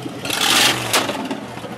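A truck engine starts and revs up with a rising, roaring burst, then settles into a rougher idle; the sound is close and fairly loud, with no talking.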